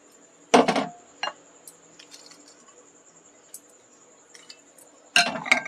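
Soaked chana dal tipped into a mixing jar, a couple of close wet, squishy clatters against the jar with faint clinks in between, then another burst of handling at the end.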